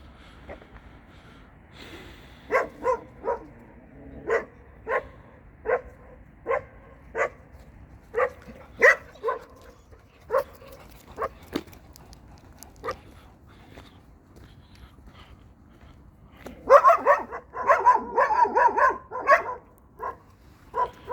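A Kangal dog gives a long series of short barks or huffs at a steady pace, then a louder cluster of barking near the end; no speech.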